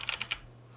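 Three or four quick, crisp clicks from a computer keyboard, heard up close, each key press sharp and short, followed by near silence with a faint low hum.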